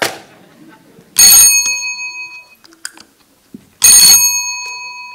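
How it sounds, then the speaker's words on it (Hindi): Two bright, metallic doorbell rings, a few seconds apart, each ringing out and fading, with faint small noises in between. "अरे दरवाजे की घंटी बज रही है"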